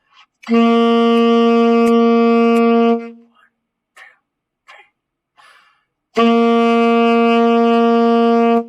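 Two long, steady alto saxophone notes on the same pitch G, loud and close, separated by a pause with a few soft breaths and clicks.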